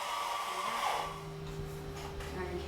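An electric coffee grinder whirs steadily through Ueshima House Blend arabica beans, a loud continuous close-up motor drone with a shifting pitch as the grinding settles.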